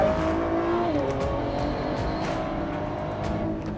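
A Ford GT's engine accelerates on the road, a continuous close, full roar with the pitch rising early on, then holding steady as the car keeps pulling.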